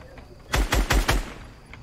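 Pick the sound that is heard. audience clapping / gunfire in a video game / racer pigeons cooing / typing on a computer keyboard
gunfire in a video game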